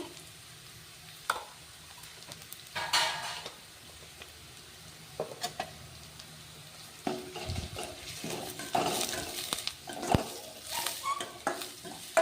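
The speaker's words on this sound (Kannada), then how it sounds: "ಸ್ವಲ್ಪ ಶುಂಠಿ ಬೆಳ್ಳುಳ್ಳಿ ಪೇಸ್ಟ್ ಹಾಕ್ತಾ ಇದ್ದೀನಿ" Ginger garlic paste sizzles in a hot pan while a spoon stirs and scrapes the metal, cooking vegetable noodles, with soft frying hiss and intermittent clinks, close and without talk.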